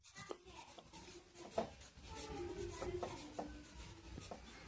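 A pen scratches steadily on paper as a science teacher writes out an answer by hand. The strokes are soft and continuous, with short taps and pauses between words, and there is no talking.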